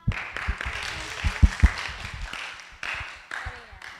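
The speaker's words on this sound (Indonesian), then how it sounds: "Teman-teman boleh minta tepuk tangannya sekali lagi untuk dua MC kita" A talk show audience claps for the two MCs, a dense spread of applause with a few sharper individual claps near the start, fading slightly toward the end, with some crowd murmur.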